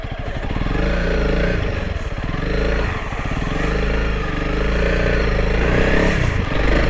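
A 2021 Honda CRF 300L Rally motorcycle ridden off road on soft gravel, its engine throbbing loudly and continuously close by, with clatter and small swells of throttle.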